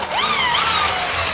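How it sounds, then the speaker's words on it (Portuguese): Power drill spinning a bit into material while building a chassis for a fan-motor model, a close, loud high whine with rising pitch settling into a steady grinding drone. "a furadeira é boa essa furadeira aqui, hein?"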